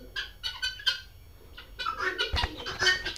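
Chickens on a poultry farm clucking and chattering in overlapping bursts, a busy flock heard close with steady activity throughout.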